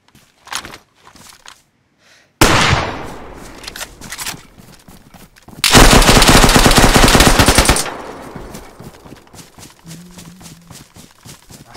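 Scattered DayZ game noises give way to a long, loud burst of rapid automatic M300 gunfire, continuous for about two seconds, then quieter rumbling.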